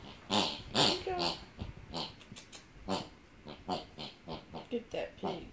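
A dog plays with a squeaky pig toy, giving repeated short squeaks and snuffling bursts at close range while a person talks encouragingly over it throughout.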